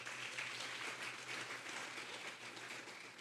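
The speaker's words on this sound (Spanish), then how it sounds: "Dele palmas al Rey a esta hora" A church congregation claps during a Sunday morning service, a steady sustained wash of many hands with a low hum underneath, moderately loud throughout.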